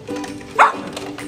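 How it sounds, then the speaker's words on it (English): A dog barks once, a short sharp yip at a toy helicopter on a Paw Patrol Ultimate City Lookout playset, heard against quiet indoor background. "Why is he barking at it?"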